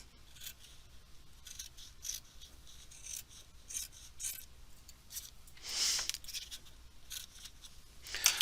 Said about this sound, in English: I'm going to cut this across here